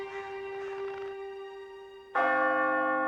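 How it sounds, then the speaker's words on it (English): Church bells toll with long ringing, sustained tones, one steady bell humming before a second, louder strike enters near the end, resonant and alone without any talk. "But throughout the North, church bells tolled for him."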